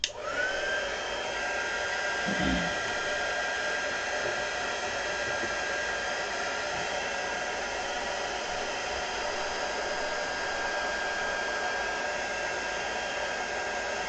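A hair dryer blows steadily and loudly on a paper craft project, with an unbroken whirring hiss throughout and a faint bump near the start.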